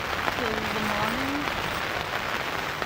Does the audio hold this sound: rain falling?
yes